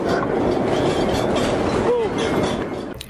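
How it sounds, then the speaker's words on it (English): Aircraft cabin rattling and rumbling through turbulence, a dense, steady broadband roar with clattering fixtures, continuous and fairly loud throughout. "the sound of a slightly panicked aircraft cabin as it rattles through the air during a period of turbulence"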